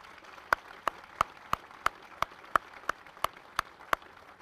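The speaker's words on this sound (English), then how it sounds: "Please join me in a round of applause" Applause at a 101st Airborne Division military ceremony at Fort Campbell, Kentucky: crisp, evenly spaced single claps in a steady rhythm, about three per second, moderately close and without voices.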